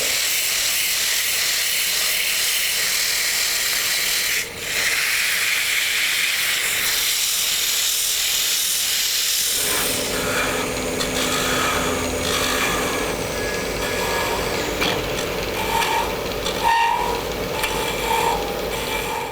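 Sandpaper held against a small wooden snowman icicle spinning on a lathe, giving a steady loud rushing hiss over the whirring motor that grows rougher and fuller halfway through, with no one speaking.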